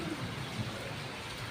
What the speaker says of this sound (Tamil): வெளுக்கு மழை மட்டும்தான் அப்படியே காற்றடிக்காமல் மழை பெஞ்சிக்கிட்டு இருக்குது